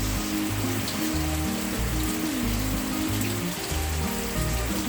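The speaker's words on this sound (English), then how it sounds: "it looks like some rain came in" Steady rain falls outdoors in Texas, a continuous hiss heard over a low, patterned rumble underneath, with nobody speaking.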